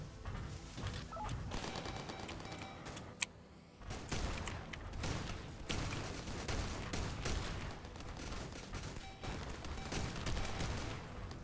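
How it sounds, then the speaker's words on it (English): A shotgun fires over and over in the indie video game Gearbits, loud punchy blasts in quick, uneven succession. They break off briefly around one sharp crack, then resume thickly. "the shotgun seems to do a pretty good job"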